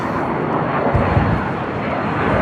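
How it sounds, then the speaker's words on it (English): A jet airplane takes off with a loud, steady, broadband engine roar that fills the scene without a break, heard up close and outdoors. "Check out that jet taking off."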